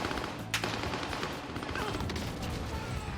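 T800 Mastercraft gun firing in Warzone, a burst of sharp shots with a prominent crack near the start followed by continued rattling gunfire and mechanical clatter in a busy game mix.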